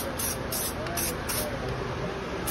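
A spray can hisses steadily at close range while applying truck bed liner as undercoating on a 1979 Malibu, a continuous spray with a few short pulses, and someone talks over it.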